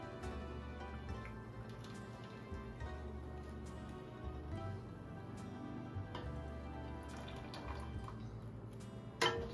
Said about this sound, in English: So she's going to strain the excess water with the strainer here